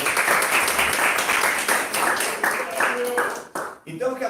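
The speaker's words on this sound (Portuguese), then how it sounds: "A salva de palmas para o Ricardo" Congregation applause fills a church service, a steady wash of clapping from many hands that carries for about three and a half seconds before breaking off, with speech picking up faintly at the end.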